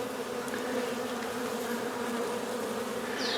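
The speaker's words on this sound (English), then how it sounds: "That way the bees can go in through the top, then go in through the entrance." A dense, steady drone of many honey bees buzzing nearby at a hive, continuous and even with no pauses.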